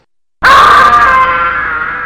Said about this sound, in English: every time you die, you get Kevin screaming in your face